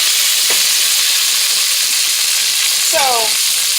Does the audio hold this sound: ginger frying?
yes